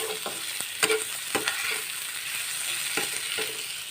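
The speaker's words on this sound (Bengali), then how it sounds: "এর মধ্যে আমি দিয়ে দিয়েছি টমাটোটা দিয়ে একটু ভেজে নেব" Tomato fries in a hot pan, a steady sizzle broken by several scraping strokes of a spatula stirring it around, close and moderately loud.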